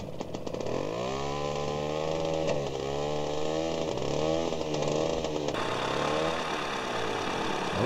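A ChMZAP-5212 DT-75 tractor engine starting in Farming Simulator 2017, a diesel that turns over and settles into a loud, rough, throbbing idle that wavers in pitch, close and alone.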